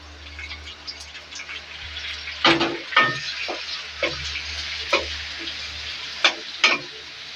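Onions and chicken gizzards and hearts fry in a home kitchen pan. A steady close sizzle runs under several sharp bursts of spatter and stirring, with no voices.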